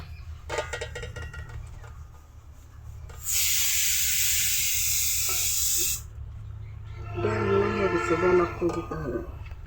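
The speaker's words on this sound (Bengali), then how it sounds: "কড়াইয়ের মধ্যে লাউ শাকগুলো দিয়ে দেওয়া হলো" Bottle gourd leaves hit a hot wok, giving a loud, steady hiss from about 3 to 6 seconds, followed by scraping and stirring against a low background hum.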